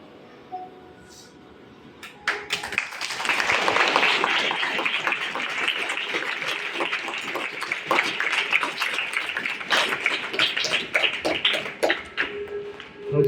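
Primary school students applauding their teachers at a motivational seminar, a quiet moment giving way to loud, sustained clapping from a large group that continues for about ten seconds before tapering off.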